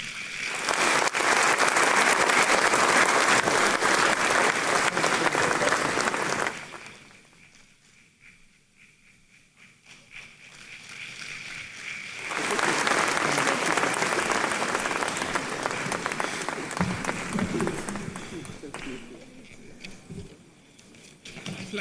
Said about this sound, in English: please help me with warm applause as we welcome up here the Honorable Betty